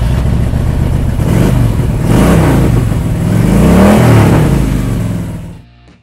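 A 2003 Harley-Davidson Electra Glide Ultra Classic with an 88 cubic inch V-twin revs loudly up close, its deep throbbing rumble rising and falling over several seconds before dropping away at the end.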